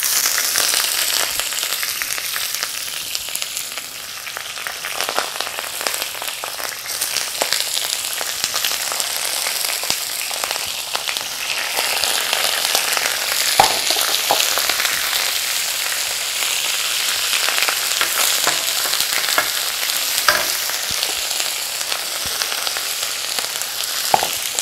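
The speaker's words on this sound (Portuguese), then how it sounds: "Aqui nós vamos forrar o fundo da chapa com a cebola para não deixar o" Fish frying on a flat griddle lined with onion, giving a loud, continuous sizzle with sharp pops and crackles scattered throughout, heard close up with no talking.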